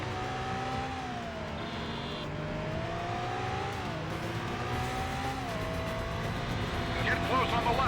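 Sports car engine in a stunt driving video game drones steadily throughout, its pitch climbing and dropping with gear changes under continuous in-game sound, with a brief extra noise near the end.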